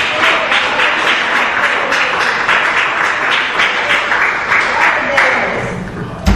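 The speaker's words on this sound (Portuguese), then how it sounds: "Podem bater as palmas com glória a Deus" A church congregation claps continuously, a dense, loud patter of many hands that holds steady throughout.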